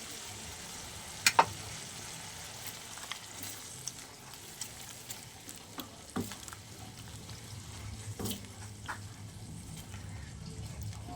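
Poppy seed paste goes into a pan of ridge gourd and potato, bringing a soft, steady sizzle with a few faint clinks and stirring scrapes, and no talking.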